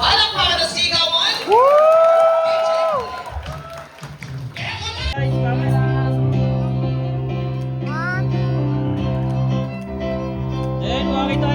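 A Filipino wedding crowd bursts into loud clapping and cheering, dense and close, with shouts and whoops mixed in and voices talking over the steady applause throughout.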